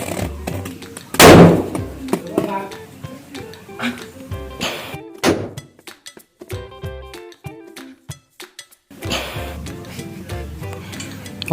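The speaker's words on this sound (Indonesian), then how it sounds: "kita akan nyalakan petasan di dalam tanah ya" Firecrackers set off buried in the ground go off outdoors, with a loud sharp blast near the start and another burst later, amid scattered clanks and bangs.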